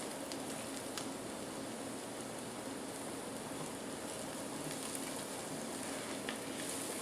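Onions and flour frying in a pan while being stirred: a continuous soft sizzle with faint scraping, steady and close, with occasional small crackles.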